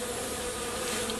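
Bees buzz around a collapsed, mildewed hive with dead bees during a removal job, a steady, dense, close drone that holds continuously without any voices.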